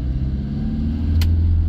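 Toyota Innova Reborn diesel with turbo, engine droning low and steady as throttle is applied on the road, a smooth rising rumble heard from inside the cabin with a brief faint tick near the end.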